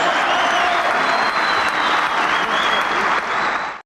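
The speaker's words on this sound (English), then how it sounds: "Round of applause, please" Loud, dense audience applause for a presenter at an online talk event, a continuous roar of many hands clapping that cuts off sharply at the end.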